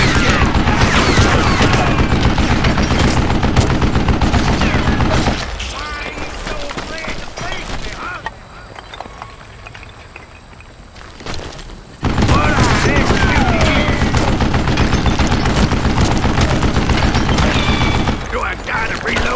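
Gunfire in the Western shooter Call of Juarez Gunslinger, loud dense volleys of shots that stop for several seconds, then resume with heavy firing while a voice talks over the action.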